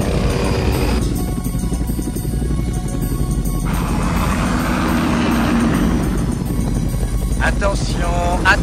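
A steady loud helicopter engine drone runs throughout, from the film Fire Birds, with voices talking in French over it and some higher whirring near the end.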